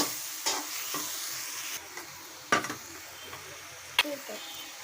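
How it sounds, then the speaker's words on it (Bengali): Fish belly pieces fried in a pan give a steady sizzle, with several sharp spatula scrapes and knocks spaced a second or so apart, close by and moderately loud. "মাছের পেটি এটা দিয়ে দিচ্ছি দিয়ে এটাকে নেড়ে ছেড়ে আবার একটু ভালো করে কষিয়ে নিব"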